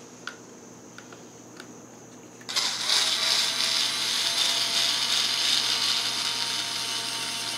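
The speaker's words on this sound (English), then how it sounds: "got one of their tiny little Bauer cordless drills, and this will fit right down in there" Small 4-volt Bauer cordless drill with a nut driver starts after a few light clicks and runs as a steady, close whirring whine for several seconds.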